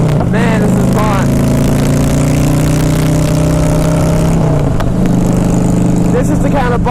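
2011 Harley-Davidson Fat Boy Low riding along, a loud, steady low engine rumble with wind noise, holding its pitch and then dropping slightly near the end.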